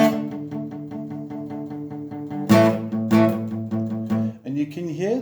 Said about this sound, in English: The guitar will be playing this rhythm here